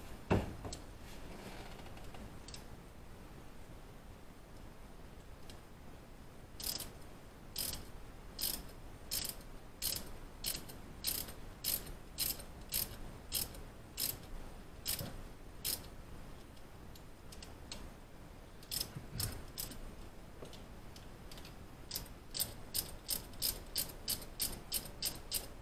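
Rapid ratcheting of a hand wrench tightening bolts on a 3.4L V6 lower intake manifold, bursts of fast clicks separated by pauses, close and clear with no talking.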